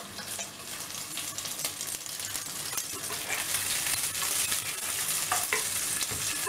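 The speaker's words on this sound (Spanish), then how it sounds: "Aquí hemos dorado lo que es el chorizo. Ha soltado la grasa." Chorizo browning in a pan and releasing its fat, the base for a Riojan-style rice, gives a steady, bright sizzle that grows slightly louder, with faint stirring and scraping underneath.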